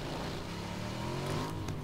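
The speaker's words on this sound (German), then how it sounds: "Ich höre ein Auto." A car drives in the PUBG video game, its engine a steady drone that swells slightly, heard at a moderate distance with no talking.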